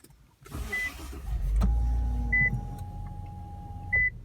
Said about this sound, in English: Put my foot on the brake. We'll start it up.